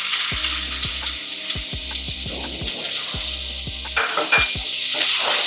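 Onions and cumin fry in oil, giving a continuous close sizzle with a bright hiss under steady background music.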